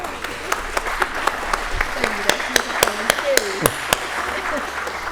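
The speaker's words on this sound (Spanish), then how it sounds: "quería pedirle un aplauso a la hermana Ana María Julia" Conference audience giving scattered applause for a sister, a few sparse, distinct claps spaced out over several seconds, fairly close, with a faint voice underneath.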